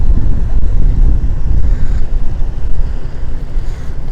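A boat motors into the Carrabelle River on a misty, foggy day, giving a dense low rumble of engine and water with buffeting wind noise across the microphone throughout, no speech.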